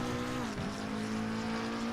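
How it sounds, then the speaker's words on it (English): A Ferrari 488 Challenge in Assetto Corsa Competizione at Monza gives a brief brake squeal over a steady, droning engine note that stays loud and continuous throughout. "The brakes just screamed a bit there."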